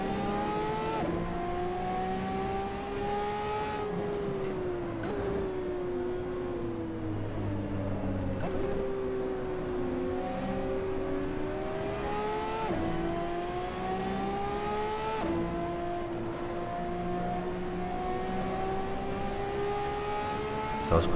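Ferrari 599XX EVO race car in Assetto Corsa, its engine note droning steadily and rising and falling through gear changes across the whole stretch, loud and close with no talk over it.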